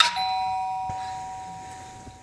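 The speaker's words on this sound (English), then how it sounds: "the doorbell rings." A single doorbell chime rings out clearly, its bright tone lingering and slowly fading, with no voices.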